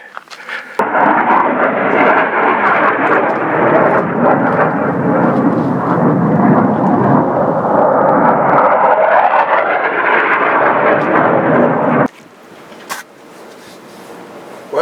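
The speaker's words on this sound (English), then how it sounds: "the plane's coming out of the valley here" A loud, continuous roar of an airplane flying out of a desert canyon valley swells for about eleven seconds, then cuts away to quiet ambience.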